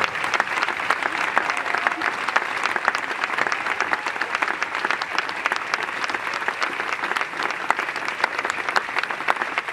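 A funeral congregation claps loudly and continuously for the Lord, a dense, even roar of many hands with a few voices mixed underneath.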